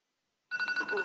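Mobile phone ringing with a steady electronic tone, starting after half a second of silence and continuing loudly and close to the end.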